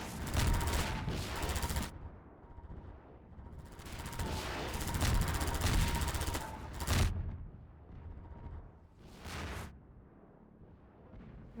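Bursts of rapid gunfire in Half-Life 2, several loud volleys separated by short pauses, the shots crackling close by with echoing tails.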